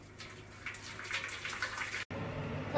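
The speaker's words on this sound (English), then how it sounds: "Put some boiling water in a tray." Boiling water is poured into a baking tray for baking sourdough hot cross buns, a steady close splashing stream that cuts off briefly near the end and then resumes.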